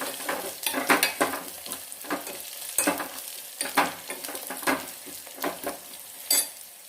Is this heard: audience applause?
no